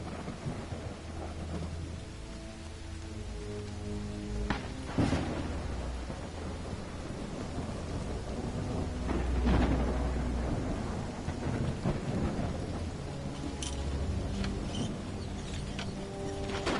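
Steady rain and rolling thunder in the Call of the Elder Gods game, with a hissing downpour under several deep rumbling cracks, heaviest near the middle. Ambient and continuous, with no voices.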